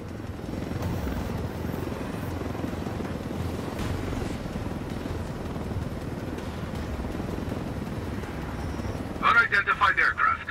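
An Apache attack helicopter in the video game Ghost Recon Wildlands flies with a steady, dense rotor and engine roar, followed near the end by a quick burst of rapid pulsing thumps.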